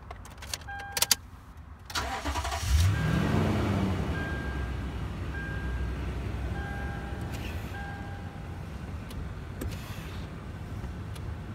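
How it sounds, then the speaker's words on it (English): A Toyota Tundra pickup cranks briefly and its engine catches, then settles into a steady, fairly quiet idle that runs on evenly for several seconds, heard up close with no talking. "Now let's go ahead and start the engine now"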